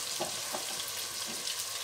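Mutton fries in a pot with black pepper, a steady close hiss and sizzle with soft stirring scrapes over it, no one talking.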